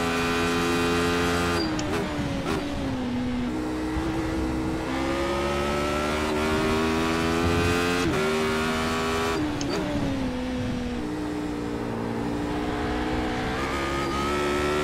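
A Radical race car engine in the iRacing game drones loud and continuous, its pitch climbing through the gears with sharp dips at upshifts, heard from on board with no talk.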